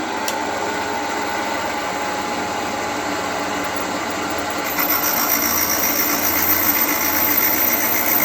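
An old valve-seat grinding machine works on a rebuilt engine cylinder head, giving a steady whirring and grinding drone that grows slightly louder partway through, close and continuous with no voices.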